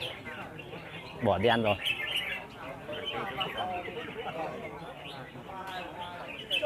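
Competition songbirds at a bird song contest trill and chirp in bright bursts, one loud close phrase standing out, while someone talks over them throughout.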